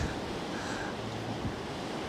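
Strong gusting wind of about 45 mph at Poole Harbour during a storm, roaring broadband across the microphone with the wash of water beneath it, loud and continuous.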